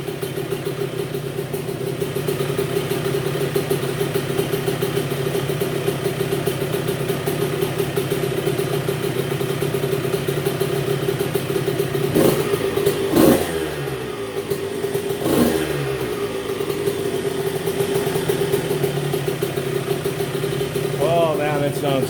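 A 1990 Honda CR125 two-stroke engine runs steadily after a carburetor float fault, a constant buzzing drone with brief blips of revving midway, heard close and loud.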